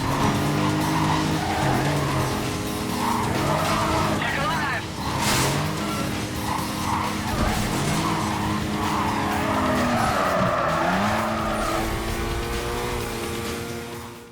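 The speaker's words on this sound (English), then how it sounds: "Though I do have a pet peeve with the tires, they make lots of noise even when you're not even steering that hard." Car tires squealing and skidding in the Need for Speed: Carbon racing game, a sustained screech over a steady engine drone with a sharp burst in the middle, heard under continuous talking.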